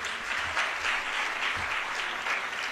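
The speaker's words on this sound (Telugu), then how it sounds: "చప్పట్లు కొట్టి దేవుని స్తుతిద్దాం." A church congregation clapping in praise during a sermon: steady, dense applause from many hands that continues evenly throughout.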